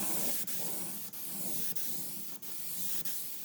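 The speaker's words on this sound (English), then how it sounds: "now I apply the first layer of clear coat." A spray gun lays two-component clear coat onto a car door, a continuous close hiss broken by brief dips roughly every half second as the passes repeat, with no talking.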